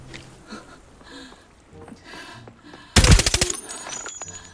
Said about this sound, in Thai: แล้วเหมือนจะมีเสียงปืนมาจากข้างหลังครับ